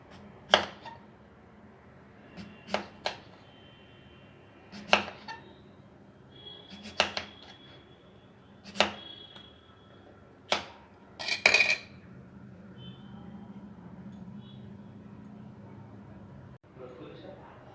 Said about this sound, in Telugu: బంగాళాదుంపల్ని ఇలా పొట్టు తీసుకున్న తర్వాత చాక్తో కానీ ఇలా కట్టర్తో కానీ సన్నని